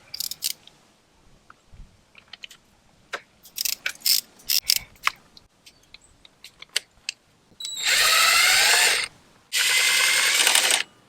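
A power tool rattles in short bursts with clicks and clanks between, then two long loud whirring runs as bolts are driven out during a front sprocket change on a BMW F800GSA motorcycle.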